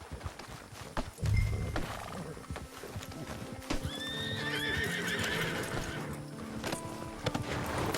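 In the Western video game Red Dead Redemption 2, a horse neighs and whinnies while its hooves clip-clop, with other animal calls in the mix and a brief low thump early on.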